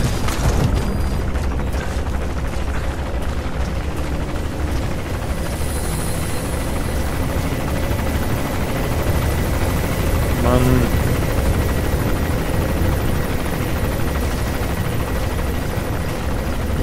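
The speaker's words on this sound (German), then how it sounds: "wie kriege ich jetzt echt den Helikopter vom Arsch?" A military helicopter in the video game Metal Gear Solid V: The Phantom Pain, during a prisoner-rescue side operation, gives a loud, steady rotor drone that fills the whole stretch with mechanical game noise layered over it.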